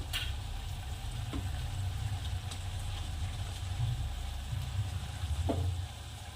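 Brinjal pieces fry with pigeon peas in a pan, giving a steady, moderately loud sizzle and crackle with occasional faint clicks of a spoon, and no voices.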